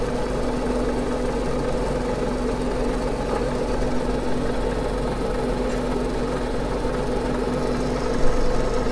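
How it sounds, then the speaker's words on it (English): A fine grinding wheel shapes an Australian sapphire, giving a steady, smooth, whispery hiss over a constant motor hum that stays level and close for the whole stretch. "The sound it makes as it goes grinding along the gem is a smoother, more of a whispery sound instead of the rougher sound made by the coarse wheel."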